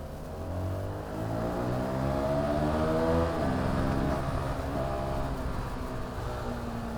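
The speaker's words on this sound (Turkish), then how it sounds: "Benim motorda gelen sese bak." Motorcycle engine riding over a dirt track, a steady mid-level drone with rising and falling revs as it accelerates and eases through a bend, no talking.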